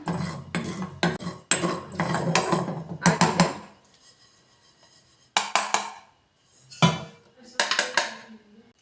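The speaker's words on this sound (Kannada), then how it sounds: "ಮೊದಲಿಗೆ ಗಸಗಸೆ ಹಾಕ್ಕೊತೀನಿ, ಸ್ವಲ್ಪ ಕಡಿಮೆ ಉರಿಲಿ ಹುರ್ಕೊಳ್ಳೋಣ" Poppy seeds roasting in a hot pan over a low flame, stirred with a metal utensil that gives repeated scraping and clinking strokes in bursts with short quiet gaps.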